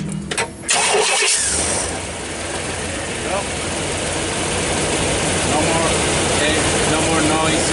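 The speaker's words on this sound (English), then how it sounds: "We're gonna start the car right now." A car engine cranks briefly and catches, then settles into a steady, fairly loud idle after a starter noise was fixed. Voices are heard around it.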